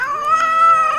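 A fluffy cat gives a single clear, drawn-out meow, close and loud, alone without talk.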